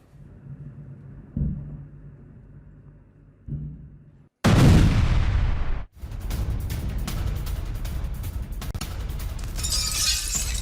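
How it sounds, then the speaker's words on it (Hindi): After quiet murmuring, a sudden loud blast erupts at an oil refinery in Moscow struck by drone attack, followed by a roaring, crackling rumble that continues steadily to the end. "हमले के बाद रिफाइनरी में जोरदार धमाका हुआ।"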